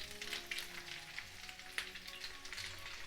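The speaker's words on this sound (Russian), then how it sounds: "Сковороду закрою крышкой и буду жарить драники с обратной стороны 10 минут на" Belarusian potato pancakes with meat fry slowly in oil in a covered pan over low heat, giving a faint, steady sizzle with small crackling pops throughout.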